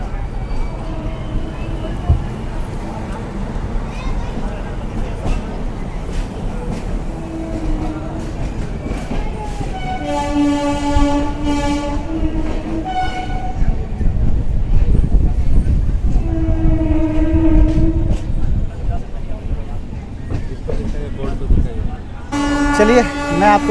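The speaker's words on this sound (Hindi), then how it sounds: "ट्रेन का डिपार्चर हो चुका है।" An express train pulls out of Buxar station, heard from inside a general coach: rolling wheel rumble builds steadily, with repeated horn toots and someone talking over the noise.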